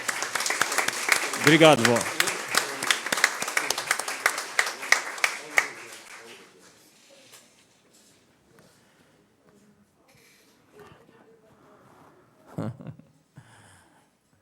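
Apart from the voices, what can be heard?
applause for an honoree at a solemn session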